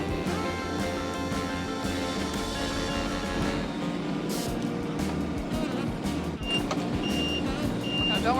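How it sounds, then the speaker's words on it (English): Reversing beeps from a Kubota tractor with a scoop, heard at close range as a steady engine drone runs under them. Higher beep tones become clearer near the end of the clip. "it beeps when I'm going back too"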